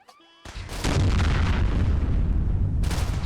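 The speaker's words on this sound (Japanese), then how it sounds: "大爆発。" Big explosion in the Fallout 4 video game: after a faint tonal start, a sudden loud boom erupts into a sustained, roaring blast with heavy low rumble lasting several seconds, no talk over it.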